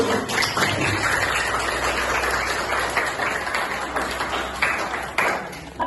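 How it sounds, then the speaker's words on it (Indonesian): Students and guests at a school seminar at SMK Mardi Wacana in Palembang give the morning's speaker a round of applause, a thick, continuous patter of many hands throughout. "mari kita beri tepuk tangan yang meriah untuk pembicara kita pada pagi hari ini, Ibu Bella Taunang"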